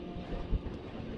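Cold wind roars in a low, steady buffet against the microphone during a motorcycle ride, with a brief heavier gust in the middle.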